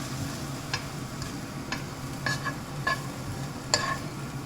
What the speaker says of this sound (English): So I have added 1 spoon of that curry powder. Give it a quick stir.